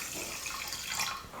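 Water is poured into a pan of sugar to make syrup for healthy laddu. It makes a short, close, steady splashing pour with no talking.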